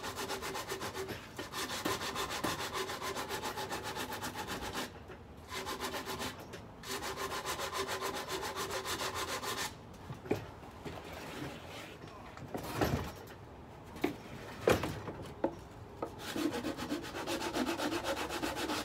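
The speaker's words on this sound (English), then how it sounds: "sandpaper on a stick stapled around" Sandpaper stapled around a stick rubbed over a sculpted giant baseball glove trophy, a close, steady scratchy rasp in repeated strokes with a few brief pauses and some sharper scrapes toward the end.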